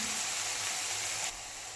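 Coconut filling for fried modak roasting in a pan, a steady close sizzling hiss that drops slightly in level near the end, with no voices.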